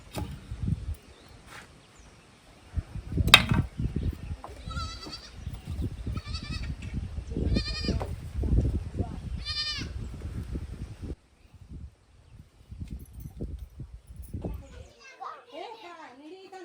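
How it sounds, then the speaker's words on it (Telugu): A goat eating jamun fruit on a hillside bleats several times in short wavering calls amid rustling and nearby handling noises, with children's voices and adult talk around it. "ఇక్కడ ఈ మేక నేరేడు పళ్ళు తింటుంది చక్కగా."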